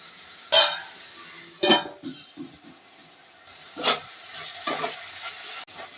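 Onions and tomatoes cooking down in a pan for a village-style jackfruit seed curry, steady soft sizzle broken by several sharp scraping stirs and clinks of a spoon against the pan, close and without talk.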